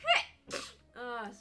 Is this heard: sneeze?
yes